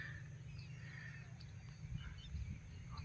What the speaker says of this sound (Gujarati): અલગ અલગ જાતના અત્યારે પક્ષીઓ કલવર કરે છે